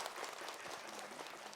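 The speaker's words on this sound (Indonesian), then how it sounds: "Tepuk tangan dulu dong Bu." A studio audience at an Islamic television talk show applauds briefly, a thick patter of many hands heard faintly in the distance.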